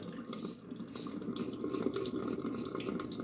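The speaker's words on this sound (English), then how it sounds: "Rinsing the blade right now." Tap water runs steadily into a sink while a double-edge safety razor blade is rinsed under it, a close, continuous splashing stream without any talking.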